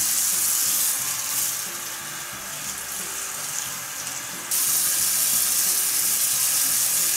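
Running water hisses steadily and close while hair is washed with a scalp-care shampoo, a continuous spray that dips slightly in the middle then surges louder again.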